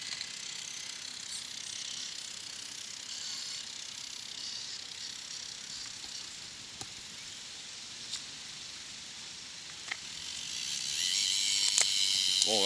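Axial Capra 1.9 4WS RC crawler drivetrain whirring with steady gear noise and a few sharp ratcheting clicks, growing louder near the end as the rock crawler is driven outdoors.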